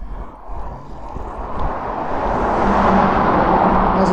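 Road traffic rumbles steadily beside a large construction site near Airbus in Bristol, a broad, continuous roar that swells louder toward the end as vehicles pass close by.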